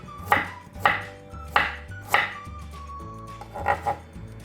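A kitchen knife chops garlic and ginger on a cutting board for kimchi paste, landing in sharp, evenly spaced strokes about every half second, close and crisp with no voices.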